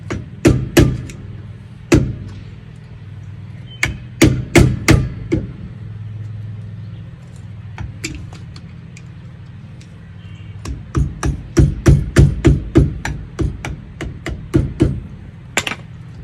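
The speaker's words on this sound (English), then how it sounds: "Let me get a normal hammer for this." A hammer taps a metal Dexter trailer axle cover in sharp, ringing strikes, some single and some in quick bursts, close by, with pauses between rounds.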